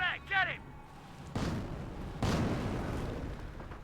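Two heavy booms from mortar half-track artillery fire in the Company of Heroes game, each a sudden low blast with a long rumbling decay, following a brief game voice.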